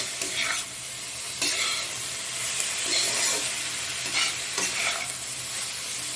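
Cabbage and spices being stirred in a hot frying pan, with steady sizzling and repeated scraping strokes of the spoon at a close, even level.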